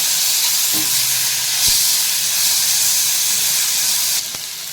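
Tomatoes and onion sautéing in a pan for masala bhendi, giving a continuous bright hiss and sizzle close by, with a couple of faint knocks and a slight drop near the end.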